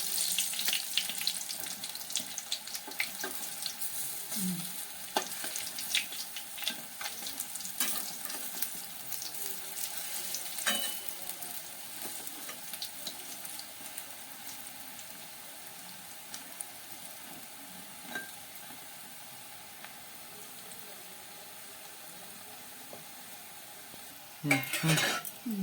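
Red lentil fritters frying in oil, a soft steady sizzle at low level with occasional faint clinks and scrapes, close by and without talk, ending in a brief louder burst.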